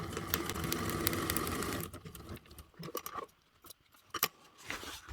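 Rapid mechanical whirr of a sewing machine stitching a bias tape pocket, running steadily for about two seconds, then stopping. Scattered clicks and handling taps follow as the fabric is turned.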